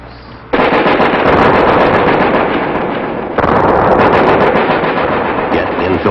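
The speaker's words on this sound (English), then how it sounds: "Prepare to throw. Throw grenade." Grenade thrown during military recruit training goes off in a loud, sudden blast, then a sustained harsh roar with crackling bursts continues for several seconds, close and overpowering.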